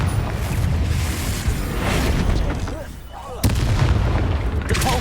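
Confringo blasting spell explosions in the Hogwarts Legacy video game, dense booming bursts layered with continuous game combat noise, with a sharp fresh blast near the end; a voice calls out spells throughout.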